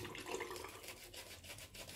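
Water is splashed and worked into a thick soap lather, with soft, close wet rubbing and sloshing over a faint, quiet background.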